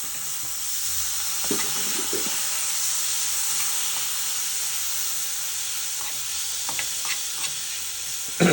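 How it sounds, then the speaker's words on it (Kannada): Chopped tomatoes frying in a pan, a steady loud sizzling hiss throughout with a few faint scraping stirs of a utensil, close up and without talk. "ಕಟ್ ಮಾಡಿ ಚಿಕ್ಕ ಚಿಕ್ಕದಾಗಿ ಎರಡು ಟೊಮೆಟೊನ ಆ್ಯಡ್ ಮಾಡ್ತಾಯಿದ್ದೀನಿ"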